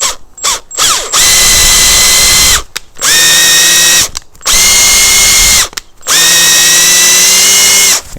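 M6 threading tool driven by a power drill cutting a thread in a motorized bike throttle body, loud whirring bursts of a few seconds each separated by brief pauses, close up.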